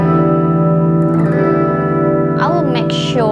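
Electric guitar played through a Positive Grid Spark amp on a distortion preset, loud sustained chords with heavy harmonic buzz, then quick bent and wobbling notes near the end.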